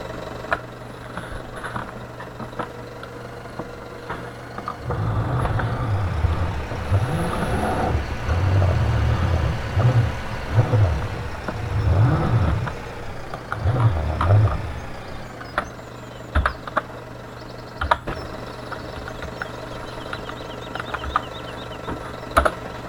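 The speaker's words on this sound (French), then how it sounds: "Moi, je prends le tracteur. Le Manitou va être en follow-me." A tractor and a Manitou telehandler rumble on a farm, a low steady engine hum with a louder pulsing, revving stretch in the middle, then settling back to a quieter idle with small clanks.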